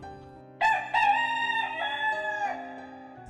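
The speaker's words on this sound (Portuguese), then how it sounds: "o galo cantou." A rooster crows loudly and close by, one long cock-a-doodle-doo with a sharp start and a drawn-out, wavering tail, heard alone against a quiet background.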